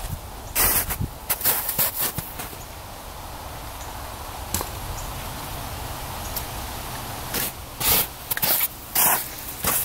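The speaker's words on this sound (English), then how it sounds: "A little WD-40 down here." WD-40 aerosol is sprayed in repeated short bursts down into a rusted engine with pistons seized in place, each hissing spurt separated by pauses, fairly close against a quiet background.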